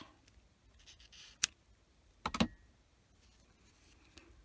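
Scissors snip through a bundle of crochet yarn wrapped over fingers, giving one sharp close click and then a quick cluster of crisp cuts in an otherwise quiet room.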